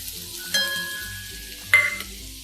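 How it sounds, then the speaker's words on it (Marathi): Peanuts and turmeric frying with browned onion in a pan for kande pohe, a steady soft sizzle with two brief louder stirring scrapes, heard alone. "सगळं हलवून घ्यायचं आहे।"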